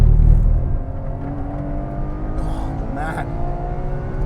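Ferrari 812 Superfast V12 engine accelerating from inside the car, a steady low drone with rising harmonic tones that carries on throughout while someone talks briefly over it.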